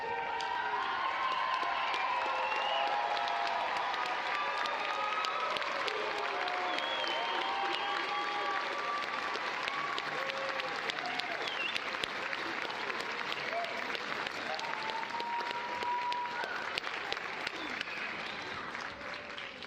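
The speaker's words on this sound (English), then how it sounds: "Give these graduates one more rousing round of applause." A standing audience gives graduates a long, steady round of applause at a university commencement morning ceremony, dense and sustained for about twenty seconds, with faint cheers and voices mixed into the clapping.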